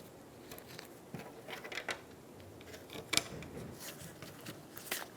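Screws being driven into a fuel pump plate with a rubber gasket on a 2007-2011 Toyota Camry 2.4L fuel tank: soft scattered clicks, taps and ratcheting ticks, with one sharper snap near the middle, all faint and close.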